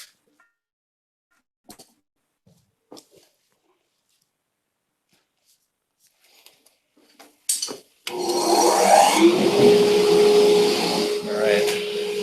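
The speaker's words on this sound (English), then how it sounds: "hook it back up to the vacuum. And I'll turn that on so it'll get noisy here again" A shop vacuum is switched on during CNC cutting of a racing quad frame after a few scattered clicks and handling noises. It then rises to a loud steady hiss and whine that holds to the end.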